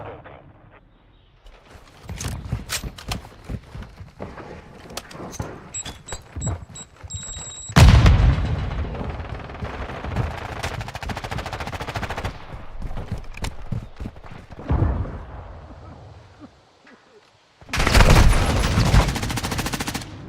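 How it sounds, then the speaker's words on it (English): Gunfire in the video game Call of Duty: bursts of automatic weapon fire crackle through most of the stretch, with loud heavy volleys around the middle and again near the end, plus scattered single shots between them. "What are you shooting me with?"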